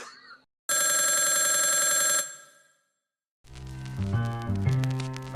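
An old-style telephone bell rings in one sustained, bright, metallic burst, used as a podcast intro effect, followed by silence and then a short, bouncy musical jingle.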